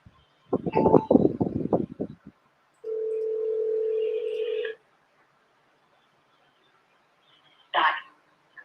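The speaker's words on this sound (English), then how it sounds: "Oh, I'm getting a phone call." A phone sounds an incoming-call alert: a burst of short electronic pulses, a steady sustained tone of about two seconds, then silence and one more short burst, with no talking.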